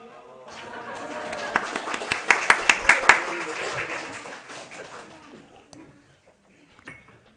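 A church congregation claps and cheers together at the stroke of midnight for the 2024 New Year, a burst of sharp hand claps and voices swelling, then fading away to near silence.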